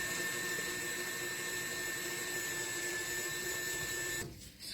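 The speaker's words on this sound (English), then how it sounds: "this machine is going to do our work for us. It's going to mix it up, and it's going to knead the bread" A bread machine mixes and kneads whole wheat dough with a steady, close mechanical whirr and hum that runs continuously, then dips near the end.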